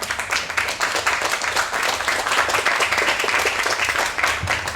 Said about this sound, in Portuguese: eu queria pedir uma salva de palmas para todo mundo aí